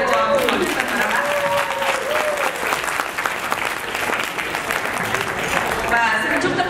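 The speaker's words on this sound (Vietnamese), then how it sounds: "Xin quý vị một tràng pháo tay cho phân hội Houston và Dallas." A banquet audience claps for the Houston and Dallas chapters after a dance performance, with sustained, full applause while music plays underneath and a voice talks near the end.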